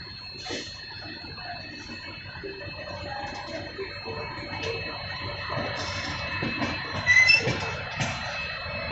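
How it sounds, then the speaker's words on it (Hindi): The Shri Shakti Express pulls slowly into Ludhiana Junction, wheels squealing thinly against the rails amid scattered clanks and clicks, with a sharper burst of screeching toward the end. "तो अब अराइवल हो रहा है ट्रेन का लुधियाना जंक्शन पे।"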